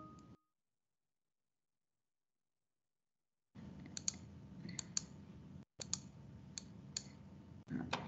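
Computer keyboard keys are pressed while working in InDesign: after a stretch of silence, a series of light, sharp clicks and taps sounds close by over a faint room hiss.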